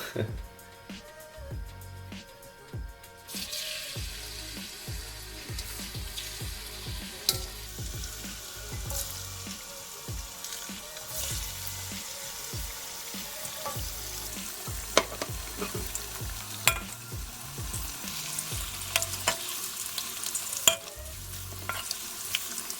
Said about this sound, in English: And now we can put our meat inside and fry it finally, before eating, of course.